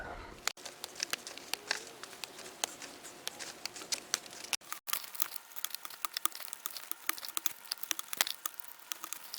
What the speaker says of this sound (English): All I did was pull out the stalks that I wanted